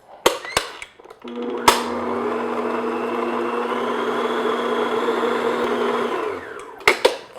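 An electric mixer beats butter and light brown sugar at medium-high speed, starting after a few sharp knocks and then running as a loud, steady whir for about five seconds before stopping, followed by more clatter.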